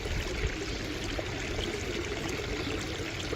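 Water from a pump-fed garden waterfall pours and splashes steadily, a constant rushing trickle close by, with no talking.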